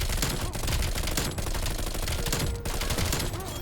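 Rapid automatic gunfire from a submachine gun in the shooter game Call of Duty: Black Ops Cold War, a dense, loud, continuous burst that runs through the whole stretch with brief dips between shots.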